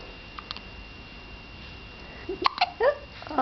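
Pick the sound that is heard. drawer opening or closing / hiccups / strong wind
hiccups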